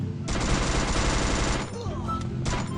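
Loud rapid automatic gunfire from the Free Fire video game keeps up almost continuously, with a brief pause before a last burst.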